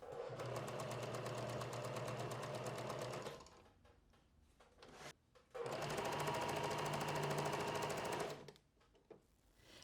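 A sewing machine runs steadily while stitching fabric for flutter sleeves, two long close whirring runs with a quieter pause and handling noises between them.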